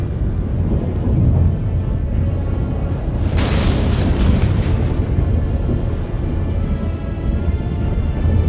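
Loud thunderstorm in The Witcher 3, with heavy rain hissing steadily and a sharp thunder crack midway that rumbles off into a sustained roar, no talk.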